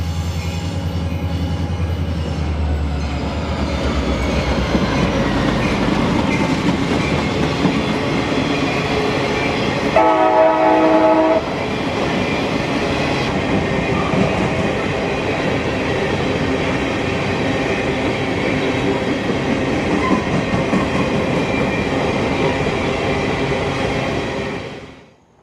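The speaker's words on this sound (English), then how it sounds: "The green signal was for this work train, a company ballast run." A company ballast work train passes close by with a steady rumble and rhythmic clickety-clack of wheels for about 25 seconds, a brief squealing tone partway through, then fades out at the end.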